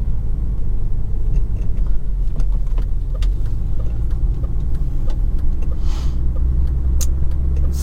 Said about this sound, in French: Le moteur est malgré tout un petit peu moins bruyant